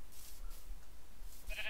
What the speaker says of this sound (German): Da sind Schafe.